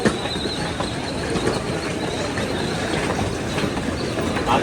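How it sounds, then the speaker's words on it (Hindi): At Kathgodam railway station, a train gives off a steady, loud rumble with faint clattering wheels and occasional squeals, a dense continuous wash of rail noise heard close by without speech. "ये है काठगोदाम रेलवे स्टेशन और इस ट्रेन पे अभी हम आए थे"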